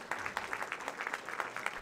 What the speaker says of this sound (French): je vous demande d'applaudir Bruno Coulet